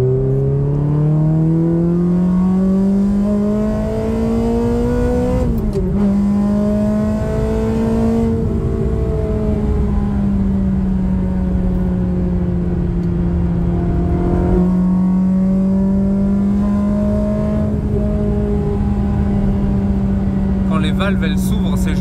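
Ferrari 360 Modena engine revving hard from inside the car, a loud sustained howl rising and falling as the exhaust valves open, with brief shifts in pitch and no talk over it.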